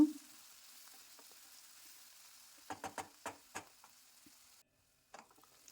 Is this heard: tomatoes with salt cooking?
yes